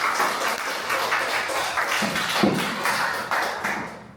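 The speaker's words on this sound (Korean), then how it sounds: "수고해 주셨으면 박수 한 번 더 드리도록 하겠습니다" Applause from an audience at a local-history symposium in Sosa, a dense patter of many hands clapping steadily and fairly close for about four seconds, with a few louder thumps, with no talking over it.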